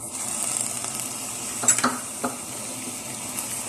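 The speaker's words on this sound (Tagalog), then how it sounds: "Igigisa lang po natin siya mabuti." Garlic sautés in olive oil for a bataw and corned beef dish, giving a low steady sizzle with a few sharp utensil scrapes and clinks near the middle.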